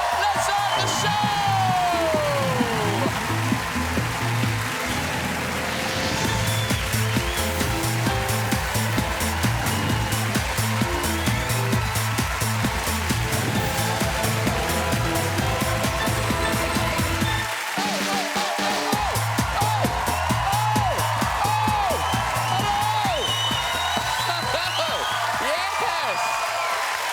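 A studio audience at the opening of a Friday-night family talk show, with sustained applause and cheering that runs under loud upbeat theme music, briefly cutting out and then resuming.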